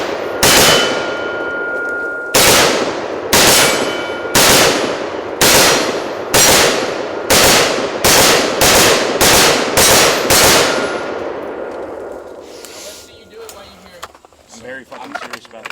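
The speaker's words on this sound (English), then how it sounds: "I'm going to stand back here and shoot that." Rifle shots fired in a steady series, about a dozen loud sharp cracks with ringing metallic clangs as the rounds strike a steel target, spacing tightening toward the end before the firing stops.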